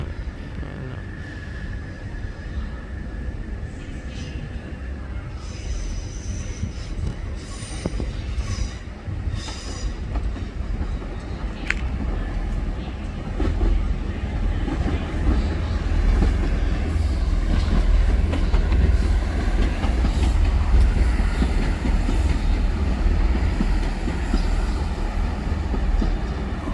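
A train at Newton Abbot station in Devon rumbles steadily for nearly half a minute. Low wheel and engine noise grows slightly louder toward the end, with brief high squeals and clanks mixed in. No one speaks.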